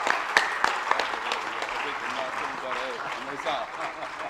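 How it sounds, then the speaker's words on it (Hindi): An audience at a Jain religious discourse by a monk breaks into loud, sustained clapping, with a voice speaking over the applause partway through. "अनुमोदना करिए तालियों के साथ, जोरदार तालियां, दिव्य ध्वनि के साथ, बहुत तेज तालियां"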